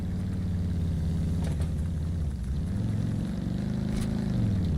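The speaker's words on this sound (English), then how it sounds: "Motorcycles are on." Motorcycle engines idle and rev in the survival game Rust, a steady, loud, low droning hum that dips briefly in pitch midway before settling back into a continuous rumble.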